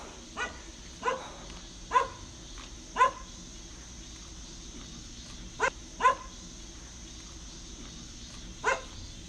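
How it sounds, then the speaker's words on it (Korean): Dogs bark at a stranger in scattered sharp bursts, some single and some in quick pairs, at moderate distance over quiet village outdoor ambience. "개들은 낯선 사람을 보면은 짓기 마련이죠"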